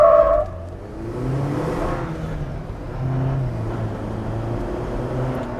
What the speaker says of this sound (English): That was literally breaking the tires free.